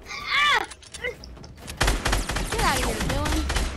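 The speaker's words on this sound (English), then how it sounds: "you hear my gun shooting double?" A gun in Fortnite fires in quick doubled bursts amid game effects, sharp layered shots close and loud, mixed with player chatter.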